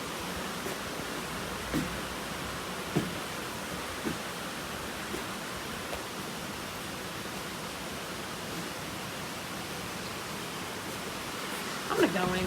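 Heavy pouring rain, a steady dense wash of noise that holds evenly throughout, with a few faint knocks and a brief louder patch near the end.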